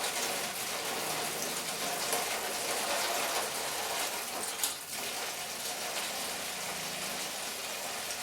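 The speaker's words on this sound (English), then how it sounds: "So just pour that all in. And you can see why it's splashing." Used acetone poured into a container to strip paint from a statue part, a steady broadband gushing splash lasting throughout, close and fairly loud with no talk.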